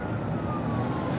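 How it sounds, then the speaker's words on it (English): An emergency siren sounds faintly behind steady road noise, a thin wailing tone drifting slightly in pitch over a short stretch with no talk. "Ambulance."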